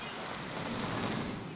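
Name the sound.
simulated rain from water hoses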